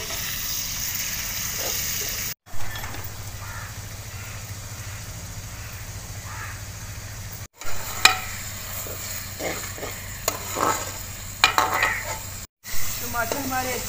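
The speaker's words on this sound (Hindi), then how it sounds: "अच्छी तरह मिक्स करते हैं और तब तक पकाएंगे जब तक टमाटर हमारी अच्छी तरह सॉफ्ट नहीं हो जाते" Chopped tomatoes and green chillies cook in a pan with a steady sizzle, broken by a few brief gaps and punctuated by occasional stirring scrapes, close and fairly loud, with no talking.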